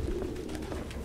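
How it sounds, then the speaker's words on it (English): Pigeon coos in Detroit: Become Human, a dense crowd of over a hundred birds, with soft layered cooing and fluttery murmurs running steadily throughout, close and fairly quiet. "There's over 100 pigeons in here."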